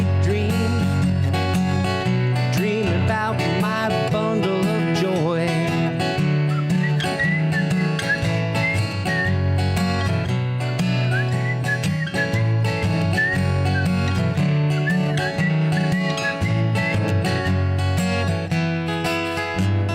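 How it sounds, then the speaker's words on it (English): A person whistles a melodic tune, clear and close, with sliding and trilled notes over a steady musical backing that plays throughout. "Great whistle."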